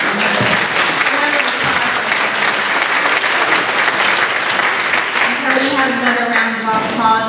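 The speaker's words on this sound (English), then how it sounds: "Applause for our guest children's choir." A church congregation at Saint Dorothy Catholic Church in Chicago applauds a guest children's choir during Mass, with steady dense clapping throughout and cheers and voices rising over it toward the end.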